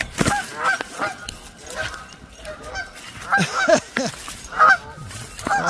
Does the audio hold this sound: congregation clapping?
no